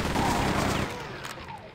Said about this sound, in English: I'm gonna use a chain gun on you, Mr. Gunner.